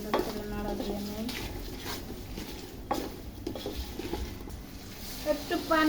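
Prawn and potato curry stirred in a pan with a spoon, close scraping and clinking strokes against the metal at an irregular pace over a faint sizzle.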